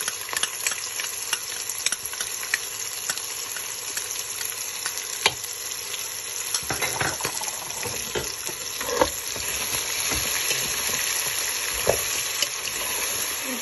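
Tomato paste fries and simmers in a pot for spaghetti with soumbala and chicken, a steady bright sizzle and bubbling with occasional clicks and scrapes of stirring, fairly loud and continuous.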